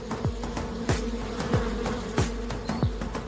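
Angry bees buzzing densely around a wild honeycomb high on a cliff, a loud, steady insect drone with individual bees swooping close past in repeated sharp passes.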